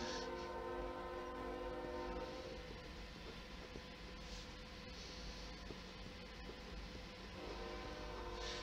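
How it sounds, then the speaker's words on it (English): A train passing nearby, heard as a loud, continuous rumble and rattle of rail cars that fills the whole stretch, with tonal horn-like bands layered over the roar. "There's a train. Please bear with it, the train as it goes by."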